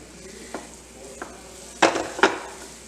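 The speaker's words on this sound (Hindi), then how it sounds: "अच्छे से इसको मिक्स करेंगे और इसको भून लेंगे।" Flour roasts in butter over a low flame, a soft low sizzle broken by a few scrapes of a spoon stirring in the pan, two louder strokes near the end.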